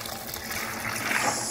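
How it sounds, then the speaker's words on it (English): A pump pushes ice water through a cooling coil for home brewing an Irish red ale, giving a steady, close hiss of gushing, rushing water with no break. "It's circulating the ice water through the coil, and then out."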